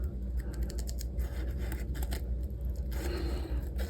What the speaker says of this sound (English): these are good quality cutting scissors that I'm using for this